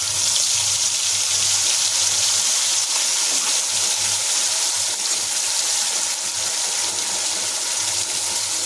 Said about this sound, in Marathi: आता मी हा मसाला तेलात तळून घेणार आहे